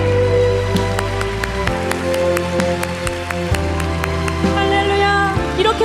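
A church congregation claps in a steady, rhythmic beat along with loud music, the sharp claps evenly spaced and continuing throughout.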